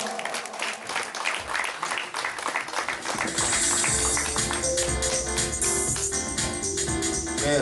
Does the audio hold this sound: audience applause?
yes